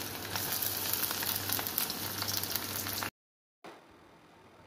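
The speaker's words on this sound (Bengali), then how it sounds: "পেঁয়াজ কুচিটা হালকা, মানে আস্তে আস্তে হালকা আগে লাল লাল করে ভাজবো" Chopped onions frying in a pan, a close, steady crackling sizzle for about three seconds, then a sudden cut to silence followed by a fainter hiss.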